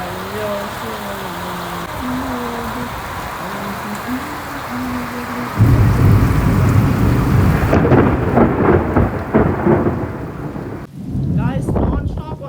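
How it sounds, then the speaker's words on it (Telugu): Heavy nonstop rain lashes down around a house while a deep rumble of thunder rolls in and builds loudly over the steady downpour, with an earlier tonal voice or music fading out beneath it. "వాన అయితే ఫుల్ నాన్ స్టాప్ వస్తుంది"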